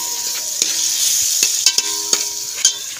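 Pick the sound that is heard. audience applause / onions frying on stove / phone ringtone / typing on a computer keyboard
onions frying on stove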